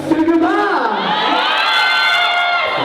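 An audience at a shopping mall show shouts and cheers together in one loud, sustained burst, with excited children's voices rising in pitch across the whole stretch.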